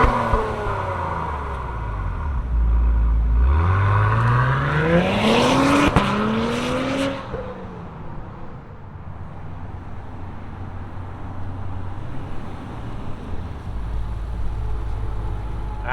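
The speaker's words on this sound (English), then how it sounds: "let's fire up this TLX Type S and hear what it sounds like" A 2024 Acura TLX Type S performance sedan cranks and fires up, its engine sweeping up in a brief rev before settling into a steady, close idle with no talk.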